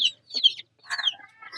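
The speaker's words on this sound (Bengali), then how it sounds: "অনেকদিন পর দেখলাম মুরগির বাচ্চা" Young chickens near a riverside embankment give a few short, bright chirps and calls in quick bursts separated by brief pauses, close by and clear, with no talking.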